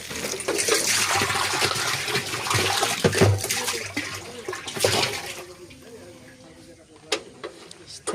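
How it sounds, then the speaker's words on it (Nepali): Water rushing into a drum outdoors, a loud continuous gushing and splashing that fades after a few seconds into quieter trickles with faint background sounds. "यो पानी भरौँ अब यहाँ"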